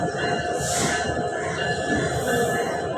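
A train rumbles past up close at Kamalapur railway station, a steady heavy roar of wheels on rails with a brief high metallic squeal near the start.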